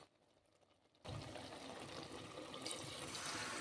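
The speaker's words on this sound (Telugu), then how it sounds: "దీంట్లోనే కొంచెం నీళ్లు పోసేసుకుందాం" Water is poured into a pot of boiled country chicken curry being cooked village style, starting as a sudden steady rush of liquid after a quiet second and continuing loud and continuous to the end.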